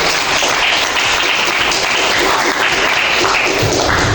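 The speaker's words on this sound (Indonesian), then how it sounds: "Beri tepuk tangan sekali lagi untuk kelompok." A classroom audience claps for a student group after their presentation: dense, loud applause that holds steady throughout with no talking.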